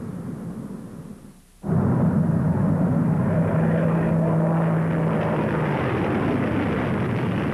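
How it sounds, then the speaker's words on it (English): After a brief near-silence, a loud, sustained aircraft engine roar kicks in and holds steady, with a faint tonal whine riding on it. "another new propulsion system, the jet engine"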